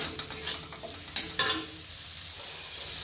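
Finely chopped tomatoes go into a pan of frying masala with a little water and are stirred, giving a soft sizzle under a few scraping stirs and a couple of sharp clinks from the spoon.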